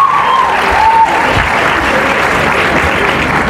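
Sustained, dense clapping from an audience at a university inaugural lecture, loud and steady throughout with no voices on top.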